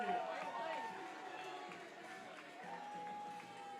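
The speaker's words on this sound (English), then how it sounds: "The fans are cheering here at Walker Stadium because a lost AirPod was returned to its rightful owner" Crowd of baseball fans at Walker Stadium cheers and murmurs at a moderate distance while a voice talks over them.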